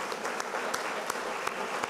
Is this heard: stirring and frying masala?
no